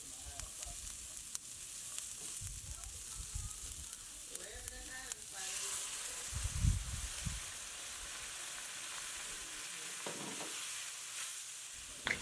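Garlic and onions sauté in a pan for beef and broccoli, a continuous close sizzle with occasional stirring knocks, while a voice speaks briefly over the frying.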